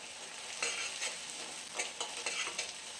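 Onion chilli paste frying in a pan while a spoon stirs it, giving a steady soft sizzle broken by several scraping stir strokes, close and alone with no voices.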